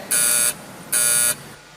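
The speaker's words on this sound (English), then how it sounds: "there are many buzzers which are going to come in my presentation, right?" Two loud electronic buzzer blasts, each about half a second long and separated by a short pause, sounding during a conference presentation, with no speech.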